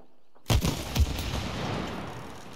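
Shooting in the game It Takes Two: two close, punchy shots about half a second apart, each with a booming low thump, trailing into a lingering rumble.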